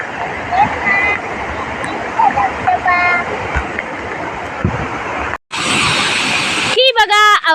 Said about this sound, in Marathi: पाण्याचा आवाज येत आहे का तुम्हाला